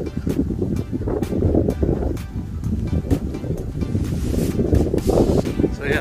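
Strong wind buffets the microphone outdoors at a housing development site, a loud, continuous low rumble with gusty surges throughout and no voices.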